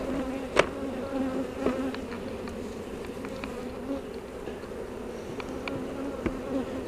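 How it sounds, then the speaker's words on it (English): A dense, continuous hum of many honey bees buzzing close by at a hive, with occasional individual bees droning louder as they pass. "Plenty of bees."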